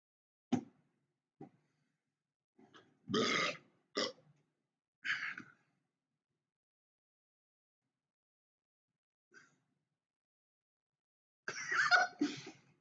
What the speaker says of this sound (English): I'm just like sitting here like burping at a web camera